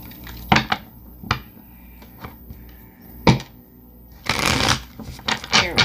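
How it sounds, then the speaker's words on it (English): A tarot deck is shuffled in short bursts: a few separate slaps and taps, then a longer riffling flurry, close and fairly loud with quiet gaps between. "I got them shuffling now."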